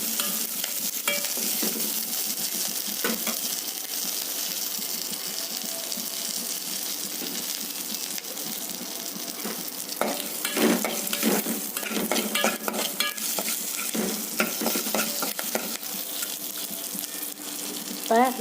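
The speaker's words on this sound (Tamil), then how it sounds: "இப்போ எண்ணெய் ஊற்றி எல்லாத்தையும் இதில் கொட்டி நல்லா வறுத்துக்கலாம்." Ingredients fry in hot oil, giving a steady loud sizzle, while repeated scraping and stirring knocks break through it.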